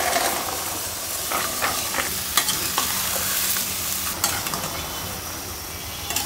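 Small shrimp sizzle and hiss in a pan while being stirred, a steady frying crackle with occasional sharp scrapes and taps of the spatula, close and fairly loud with no talking.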